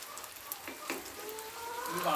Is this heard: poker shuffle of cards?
no